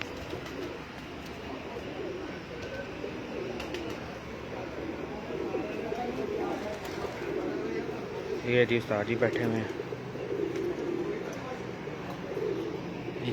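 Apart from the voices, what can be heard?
pigeon cooing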